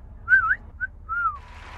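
A person whistles a short tune of three clear, sliding notes, close and alone with no talking.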